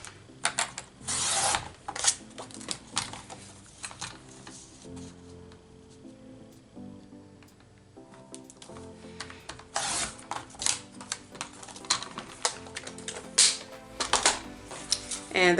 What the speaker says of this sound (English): I'm just going to cut the rest of it out.